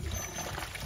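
Water gushes from an opened farm water pump, a steady close rushing pour with a trickling, splashing texture running throughout.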